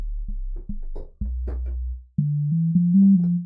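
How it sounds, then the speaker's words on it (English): A steady, nearly pure oscillator tone from a VCV Rack modular synthesizer, close to a sine wave, played as short notes, a low hum first and then higher sustained pitches, with no voices. "this as kind of a sine wave, although it isn't totally a sine wave"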